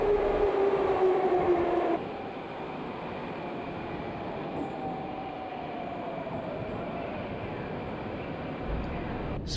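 Baku metro train running fast through a deep underground tunnel, a loud steady rumble and roar with a whining tone that drops after the first two seconds, continuing throughout with no talk.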